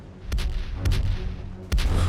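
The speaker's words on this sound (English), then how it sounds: "Quince and his crew had begun peppering Thieves Haven with cannon fire of their own" Ship's cannons firing at a pirate haven, three deep booming blasts spaced unevenly over a continuous low rumble, loud and close.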